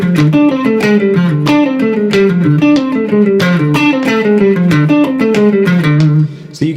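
A distorted electric guitar repeats a short seven-note phrase several times at a steady pulse, with sharp ticking clicks keeping time underneath.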